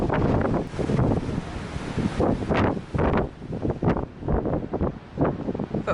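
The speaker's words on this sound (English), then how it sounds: "It is very windy though, and it's sunny," Strong wind buffets the microphone on a sunny cruise ship deck, loud roaring gusts that surge and ease in waves throughout, with no voices.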